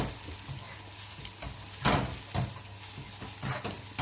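Grated coconut stir-fried with green gram for cheru payaru thoran, with curry leaves in the pan: a continuous close sizzle broken by spatula scrapes and stirring bursts.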